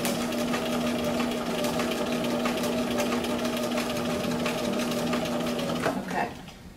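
A sewing machine stitches across a sleeve placket line, its steady motor hum and rapid needle drone running loud and continuous for about six seconds before abruptly stopping.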